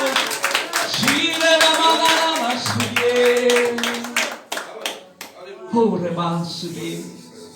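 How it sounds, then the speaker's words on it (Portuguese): A church congregation claps along in a steady, fast rhythm, loud and close, with voices singing or calling out over the clapping. "Pode aplaudir ao Senhor Jesus."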